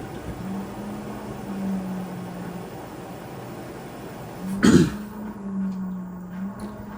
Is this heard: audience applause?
no